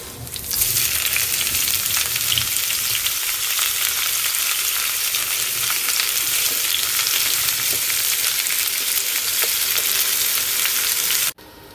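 Ginger, garlic and onion fry in a pan, making a loud, even hiss of hot oil with faint stirring underneath that runs steadily until it cuts off abruptly near the end.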